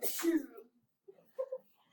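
A single sharp sneeze bursts out close by, followed by a brief pause and then a few soft murmured sounds.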